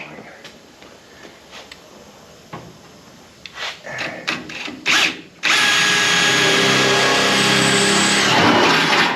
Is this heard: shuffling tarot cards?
no